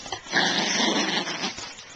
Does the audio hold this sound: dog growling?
yes